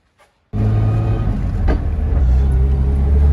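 A Toyota JZX100 fitted with a 4.3 differential pulls away, its engine and road rumble starting abruptly and holding loud and steady from inside the car after a moment of silence.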